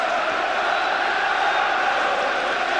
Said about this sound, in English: The crowd are cheering to get behind Newcastle now